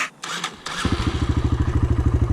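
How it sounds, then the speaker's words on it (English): A dirt bike engine catches after a few soft thumps and settles into a steady, close, pulsing idle with the choke fully on. "so now I'm able to idle with the choke all the way down"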